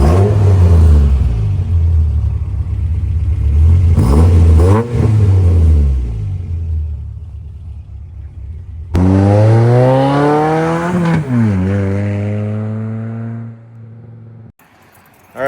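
A Toyota pickup with a 22RE engine and a custom 2.5-inch exhaust pipe drives by, revving loudly through several gears with rising and falling engine pitch, close and powerful, then settling into a steady cruise.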